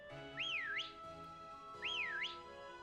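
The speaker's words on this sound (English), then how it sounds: "Apparently, we whistle when we click down the left stick." In Pokemon Sword, the player character gives two quick swooping whistles, rising and falling, about a second and a half apart, over quiet game music.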